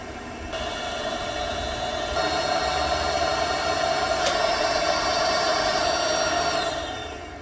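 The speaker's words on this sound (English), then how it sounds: "I can start to hear the burner firing up slowly. It's kind of like slowly increasing," Webasto coolant heater burner on a first-generation Cummins firing up, a steady rising hum with whining tonal layers that build like a distant jet engine, close and fairly loud, with no talking.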